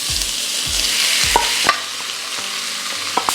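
Meat hitting a hot pan sets off a loud, steady sizzle up close, with a few sharp clicks of a wooden spatula against the pan.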